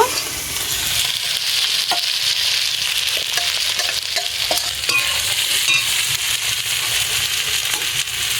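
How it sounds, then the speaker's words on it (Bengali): Prawns go into frying masala and are stirred, giving a steady, loud sizzle with scattered spatula scrapes and small crackles, close up and continuous, no voices. "এবার এর মধ্যে আমি চিংড়ি মাছটা দিয়ে দেব"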